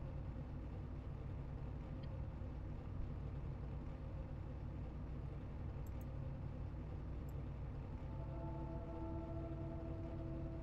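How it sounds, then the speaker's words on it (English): Race cars idle on pit road behind a Ford Mustang pace car in an ARCA Menards Series race in iRacing, a low, continuous engine rumble holding steady throughout. Faint tonal hums and brief higher pings sit above it. "Just listen to those cars rumble."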